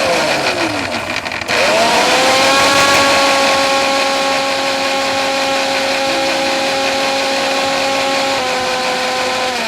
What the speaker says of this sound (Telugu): మిక్సీ పట్టేసుకోవాలి.